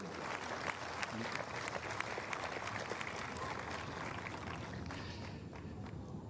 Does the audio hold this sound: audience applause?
yes